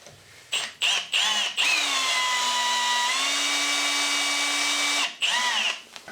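Power drill driving a long hole saw into wood to cut out a snapped screw: several short whirring bursts, then a sustained high whine that shifts pitch as the saw bites and slows, close and alone.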